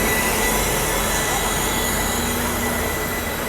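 The Bhubaneswar Superfast pulls out of Rajahmundry station with a loud, sustained, high metallic squeal from its wheels over a steady rumble of rolling stock, close by and continuous.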